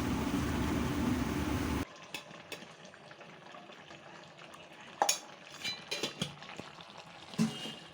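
A pot of goat head curry is stirred, beginning with a dense sizzling scrape, then quieter scattered clinks and scrapes of a spoon against the pot, close and without talk.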